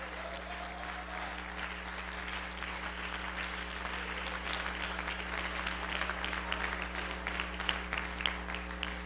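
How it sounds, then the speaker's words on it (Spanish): A church congregation applauds as an offering to God, steady dense clapping from a crowd that swells slightly toward the end, over a low steady hum. "Fuerte la ofrenda de aplauso para Dios"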